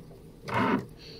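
A Brother sewing machine stitching a 45-degree line on quilt binding gives one short, close mechanical whir lasting under half a second, with no talking.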